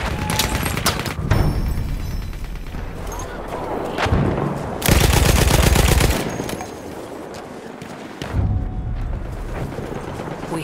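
Rapid bursts of Lewis gun machine-gun fire in Battlefield 1, loud and close, with a sustained burst in the middle amid battlefield explosions and background noise.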